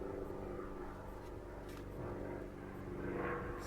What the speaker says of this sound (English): Excuse the plane one moment.